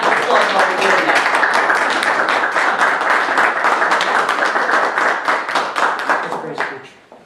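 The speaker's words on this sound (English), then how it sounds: "let's give the Senator a round of applause while we're doing that" A crowd at a Democrats community day gathering claps for a Senator, brisk and fairly close, holding steady for several seconds before tapering off to a few last claps.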